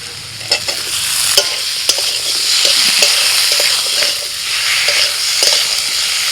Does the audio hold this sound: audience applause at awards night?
no